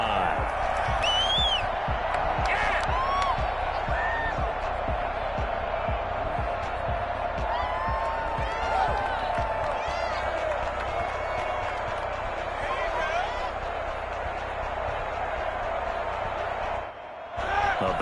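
Stadium crowd in a Madden American football video game during a Falcons drive, heard as a steady, loud roar of crowd noise throughout with commentary talking over it and a brief dip near the end.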